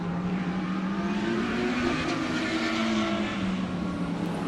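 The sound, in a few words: Lamborghini race car engine on a race track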